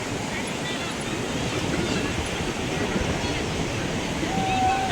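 Waves of the rising tide surging onto Kashid beach, a steady broadband wash of surf with a busy crowd around it, loud and continuous throughout without a clear break.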